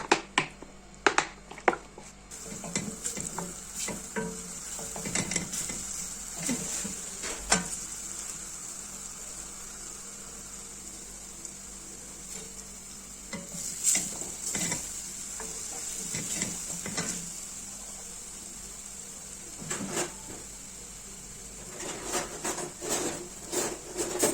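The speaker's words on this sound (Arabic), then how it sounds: "هنجيب هنا حله، نحط شويه زيت" Oil heats in a cooking pot while a koshari tomato sauce is prepared, with scattered close clatters, scrapes and light sizzling that come and go over a steady low hum. No voices are heard.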